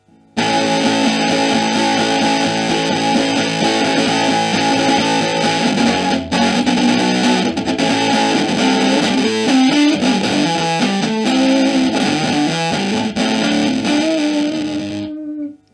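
A dense, harsh, buzzing wall of distorted sound from an LM386 circuit through a relay runs continuously, growing gritty and choppy with crunchy bit-crushed breakups before cutting off abruptly.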